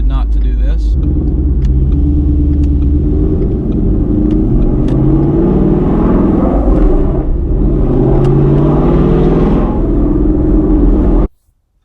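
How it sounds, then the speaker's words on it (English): A 2017 Ford Mustang with the 5.0 V8 rumbles loudly while driving between buildings, its deep exhaust drone swelling and easing steadily throughout before cutting off abruptly at the end. "We gotta get a little bit of exhaust right here because we're going through some buildings"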